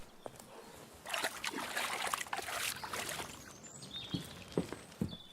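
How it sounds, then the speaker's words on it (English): Video game footsteps: splashing, sloshing steps through shallow water, a run of wet footfalls followed by a few separate splashes. "the sound of the player walking through water"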